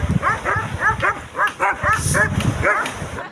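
Several dogs barking and yipping in quick, repeated bursts close by, a lively overlapping chorus outdoors at a seaweed-harvesting village.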